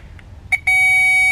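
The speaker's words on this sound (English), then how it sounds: "it should make a noise to say that it has connection" Power Probe III circuit tester touched to a solenoid connection, giving a faint short chirp and then a loud steady electronic beep that holds to the end, close and alone.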